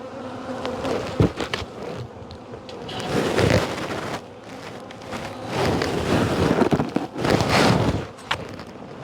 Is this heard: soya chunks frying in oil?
no